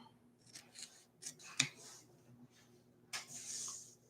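Scissors snipping ribbon at a slant while a bow is shaped, with several quick, close, quiet cuts and rustling handling in between.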